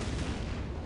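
A burst of weapon fire from a Tau commander's plasma rifle and missile launcher in the Dawn of War strategy game makes a dense, loud, noisy blast filling the whole short moment without a break.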